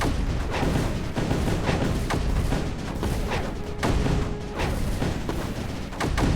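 Mortars firing in the strategy game Creeper World 4, a dense, continuous barrage of booming shots and impacts at a steady, loud, repeating pace.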